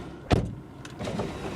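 A used hatchback's electric window starts with a sharp click and runs with a soft, steady motor whir nearby, followed by a second quieter movement.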